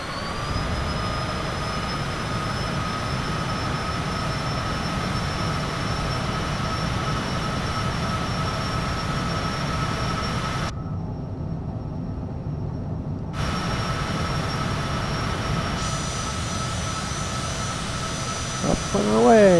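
Cessna Citation CJ4 jet engines roar steadily at full takeoff power, a loud continuous rumble and whine heard from inside the cockpit, with a voice speaking over it.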